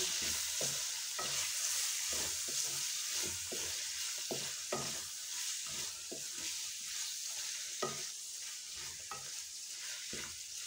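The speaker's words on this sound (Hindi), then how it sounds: "कीमे को आपने अच्छी तरह भून लेना क्योंकि भूनने के बाद इसकी स्मेल ख़त्म हो जाती है" Mutton keema with peas frying in a pan, a constant bright sizzle under a steady rhythm of repeated spatula scrapes and stirs, close and alone.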